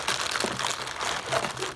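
Plastic bags holding power cables crinkle steadily and close up while a surround sound system is unpacked, a continuous rustle with no speech.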